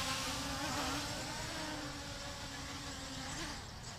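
A Rakon 200QX quadcopter comes in to land, its rotors giving a steady, fairly close insect-like whine that drones without a break and eases slightly toward the end.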